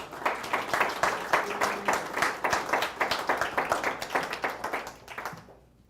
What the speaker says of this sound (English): now is the time to give all the candidates a round of